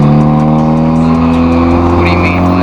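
A modified Acura Integra engine revs loudly and steadily close by, its strong harmonic drone holding throughout with a brief rise near the end.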